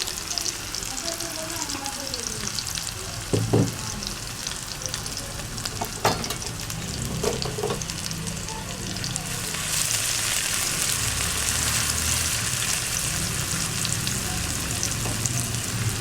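Chopped onions fry slowly in a pan for tawa kaleji masala, a steady soft sizzle running throughout with a few clinks of stirring, the crackle growing denser and brighter in the later half.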